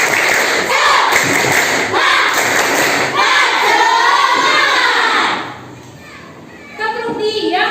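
A classroom of children performs the tepuk semangat clapping chant during an Islamic religious studies lesson, loud group chanting voices mixed with sharp rhythmic claps and thumps, then dropping off abruptly into near quiet before a brief resumption.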